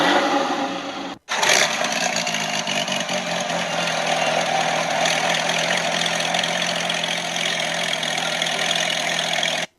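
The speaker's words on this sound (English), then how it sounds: "Batman hits the startup button, starting up the Batmobile's powerful 800 horsepower supercharged Boxer" An 800-horsepower supercharged Boxer 6 engine in the Batmobile starts with a short burst, a brief silent gap, then settles into a loud, steady idle with a dense mechanical rumble and hiss.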